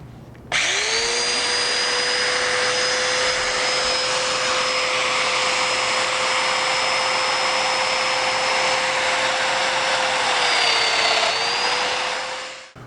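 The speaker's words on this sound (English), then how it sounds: "I can go ahead and cut the holes in the face frame" A power tool runs steadily for about twelve seconds, cutting domino holes in a wooden cabinet face frame for a vanity, with a loud, even whine that dips briefly near the end and no talking.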